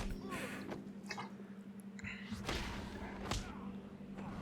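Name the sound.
smack on the head in video game Batman Arkham Asylum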